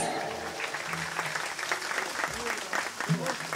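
An evening event crowd claps steadily and fairly close to welcome a singer, a short burst of applause with a voice speaking over it.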